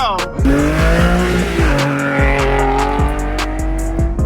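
A Nissan 370Z Nismo revs hard while its tires squeal loudly. The engine pitch climbs and drops in repeated surges through gear changes, close and dominant, with no talking.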